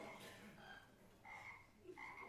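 Frog croaking in repeated raspy bursts, three clear calls spaced across a couple of seconds, moderately loud with no talk over them.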